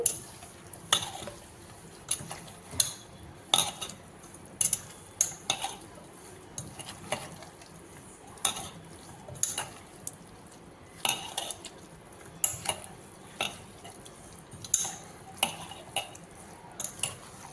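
Chicken pieces mixed with turmeric and salt in a metal bowl, heard as steady repeated scraping and clinking of a spoon or hand against the dish, close and fairly quiet.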